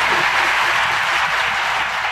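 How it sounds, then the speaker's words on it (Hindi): Sustained applause from a large audience at a Hindi spiritual discourse by Sant Shri, a loud, continuous wash of many hands clapping with no pauses. "अब बजाओ ताली"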